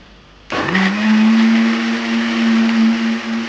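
A kitchen mixer grinder whirs into life and holds a loud, steady high-pitched drone while blending fruit with sugar and milk into juice, running alone without pause.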